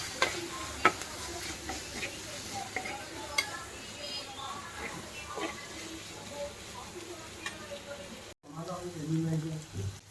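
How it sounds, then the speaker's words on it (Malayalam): Sardine curry with chili powder and tamarind cooking in a pot gives a soft, steady bubbling sizzle with a few faint clinks, and a brief louder stir or voice near the end. "ചാള ഞാൻ തിളപ്പിക്കണേണ്"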